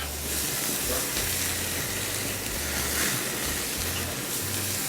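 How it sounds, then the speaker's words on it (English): A sous vide steak sizzling steadily on a hot grill as it is flipped, a loud, constant crackling hiss of searing fat and meat, close up and uninterrupted. "Flip our sous vide steak as well."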